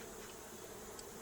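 Honey bees around an opened beehive as it is smoked, making a continuous close buzzing hum.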